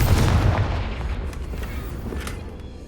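A Confringo fire-blast spell bursts in Hogwarts Legacy with a loud, heavy boom up front, then a rumbling blast that rolls on and slowly fades across a few seconds.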